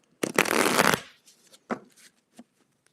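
A quick riffle of tarot cards, a dense papery burst about a second long, followed by a few soft separate taps and slides of the cards, close and clear.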